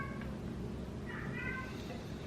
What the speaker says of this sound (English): Just in case you can hear that, that's the cat.